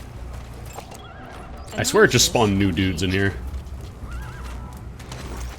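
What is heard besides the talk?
horse neighing in a video game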